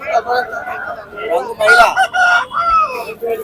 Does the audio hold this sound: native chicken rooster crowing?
yes